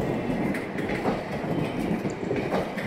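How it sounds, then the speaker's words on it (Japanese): A Talgo train with single-axle bogies departing Almaty, Kazakhstan, its cars rolling steadily past nearby and clicking lightly over the rail joints in an even, brisk rhythm, with no voices. "ジョイント音というのはとても軽やかでいいですね。"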